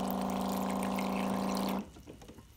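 Water pours into a blender jar holding fruit, a steady close splashing stream that runs for almost two seconds and then stops abruptly, leaving quiet room noise.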